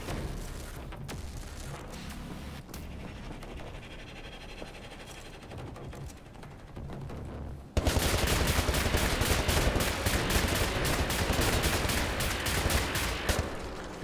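Super soldiers fire miniguns in a video game, a long dense stream of rapid gunfire that starts as a quieter, more distant clatter and then suddenly becomes loud and close, with a fast continuous rattle.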